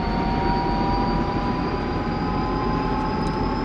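Helicopter turbine spooling up in the DCS flight simulator, a steady loud whine with a high tone over a broad rushing drone, continuous and alone throughout.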